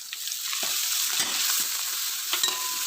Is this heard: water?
no